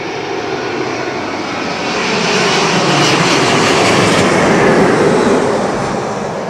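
An airplane passes low overhead near Heathrow Airport, a broad engine roar swelling loudly as it nears, holding, then beginning to fade, with no speech.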